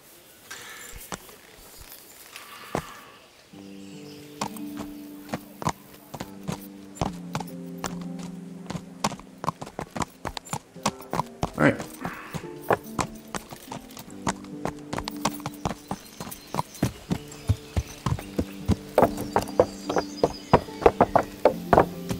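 A horse's hooves clip-clop steadily in the video game Kingdom Come Deliverance, sharp rhythmic knocks that grow faster and more regular, heard over a soft sustained musical background.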